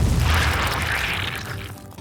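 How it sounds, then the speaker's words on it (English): A deep, rumbling explosion in a narrated audio story, a single heavy boom that fills the space and slowly fades with crackling debris, no voices over it. "an explosion goes off which buries the supplies in whipped cream"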